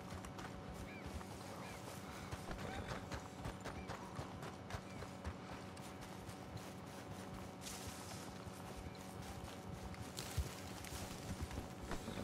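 Horse hooves clip-clop steadily throughout in Red Dead Online, a continuous trotting rhythm with occasional snorts and whinnies over a constant background bed of ambient game sound.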